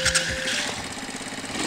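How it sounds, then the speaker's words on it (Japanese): A motorcycle engine starts up on a touring ride in Kagawa, a brief loud mechanical burst settling into a steady close idle hum. "それではエンジン始動"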